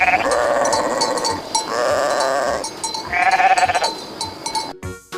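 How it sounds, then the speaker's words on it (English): Sheep bleat three times, loud and close: long wavering calls with short pauses between, in a children's animal-learning cartoon. "sheep,"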